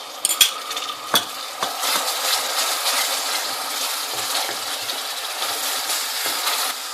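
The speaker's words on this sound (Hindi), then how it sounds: "मैंने दही डाल के भी थोड़ा सा इसको भून लिया है" Whipped yogurt fries with chicken korma in a pan, giving a steady bright sizzle while a spoon clinks and scrapes against the metal a few times early on. Nobody speaks.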